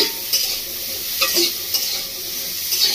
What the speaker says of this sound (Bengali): কেটে ধুয়ে রাখা রাঙা আলুগুলো ঘিয়ের মধ্যে দিয়েছি, নাড়াচাড়া করে নেব।